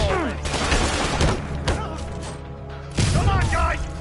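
Loud bursts of gunfire and heavy thuds erupt in a Spider-Man video game fight, layered under game voices and music, with booming impacts recurring every second or so.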